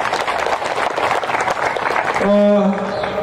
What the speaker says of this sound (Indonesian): Tepuk tangan untuk PDAM Tirta Lihou.